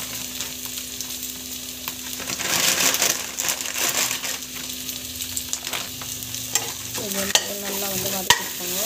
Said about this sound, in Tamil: நல்லா வந்து வதக்கிக்கோங்க.